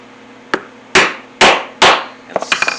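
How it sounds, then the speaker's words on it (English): Hammer setting a rivet with a cap on an anvil during leatherwork: one light tap and then three heavy ringing strikes in a steady rhythm, ending with a quick flurry of lighter taps, close and sharp. "And set my rivet."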